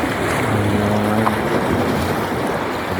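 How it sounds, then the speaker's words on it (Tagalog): Sea waves and wind by the shore, a loud continuous wash of surf with blustery wind buffeting the microphone and no voices. "Dagat na pala ito, dagat."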